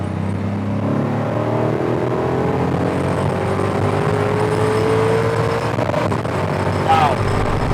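A Nissan 240sx with a 5.3-liter LS V8, 243 heads and a drift cam, accelerating hard, its engine note climbing steadily in pitch as a loud, continuous roar close by.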